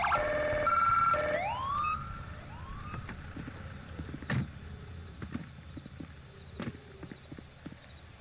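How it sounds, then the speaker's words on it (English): Police siren of a Los Santos Sheriff vehicle in a modded video game: a loud electronic tone stutters, then sweeps upward in wailing rises before cutting off, leaving faint clicks and quiet background. "Siren's still the same."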